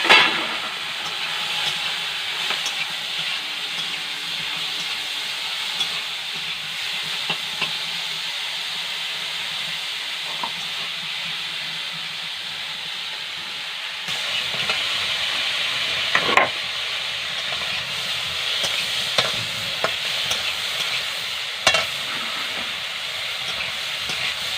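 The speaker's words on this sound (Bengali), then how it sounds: "তেলটা গরম হয়েছে, তেলের মধ্যে দিয়ে দেবো মাছগুলো।" Small shrimp frying in hot oil give a steady, soft sizzle throughout, with occasional louder crackles and stirring clatter from the pan.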